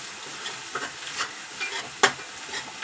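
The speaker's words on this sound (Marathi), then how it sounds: "मिरची आणि कांदा छान असा आपला फ्राय झाला आहे" Green chillies and onion frying together in a pan, a soft steady sizzle broken by light spatula scrapes and one sharper clink, close and fairly quiet.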